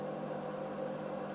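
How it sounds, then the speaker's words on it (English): A microwave oven running continuously while melting metal, after about 22 minutes of operation in hot conditions, giving a steady, even hum with a constant tonal drone and no talking. "it's been almost 22 minutes of microwaving"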